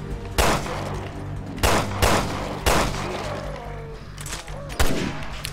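Assault rifle fire in Resident Evil Revelations 2 Raid Mode, several sharp separate shots and short bursts spread across the stretch, with someone talking underneath throughout.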